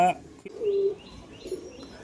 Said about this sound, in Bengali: এ হচ্ছে কবুতর